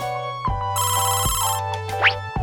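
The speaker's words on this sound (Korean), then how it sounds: "갑자기 회사에서 전화가 왔고" A phone rings with an incoming call from work during the morning drive to school. The melodic ringtone is loud and close and plays repeated tones throughout with no talking.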